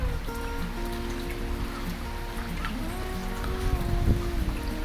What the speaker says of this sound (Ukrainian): Сьогодні дощ.